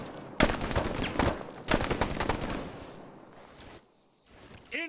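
Machine gun fire in the ARMA 3 military shooter: two loud bursts of rapid shots a second apart, followed by fading echo and a brief chirp at the end.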